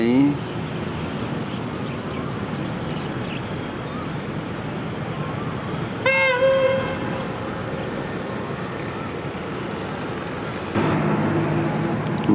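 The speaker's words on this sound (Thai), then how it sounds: "รถเข้ามาเพิ่มอีกหนึ่งขบวนครับ" Steady rumble of a train rolling into Bang Sue station in Bangkok, with a short horn toot partway through and a louder surge near the end, voices talking faintly over it.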